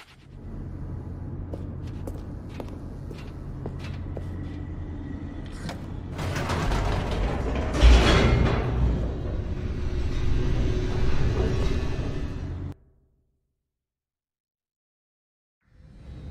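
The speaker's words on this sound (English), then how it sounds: "The elevator raced downward" Elevator descending in The Stanley Parable, a steady mechanical rumble with creaks and clanks that swells louder midway, then cuts to silence near the end.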